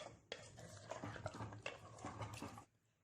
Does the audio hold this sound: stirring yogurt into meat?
yes